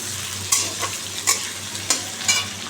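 Ash gourd curry with potato, panch phoron and bay leaf cooking in a pan: a soft sizzle beneath four or five distinct scraping stirs of a spoon, close and clear, without speech.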